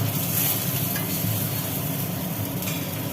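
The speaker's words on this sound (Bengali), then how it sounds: "ডিমগুলো মোটামুটি লাল লাল করে ভাজা হয়ে গেল" Eggs frying in oil in a kadai for a Bengali egg curry with potato and cauliflower give off a steady, close sizzle that runs evenly throughout, with no talking over it.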